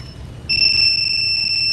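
A motorcycle anti-theft alarm suddenly starts up, a piercing high steady tone that keeps sounding loudly after a quiet moment of background hum.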